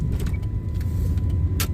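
A car rolls slowly through a neighborhood in Cal City, its low engine and road rumble steady and close for under two seconds, with a brief rushing swell near the end.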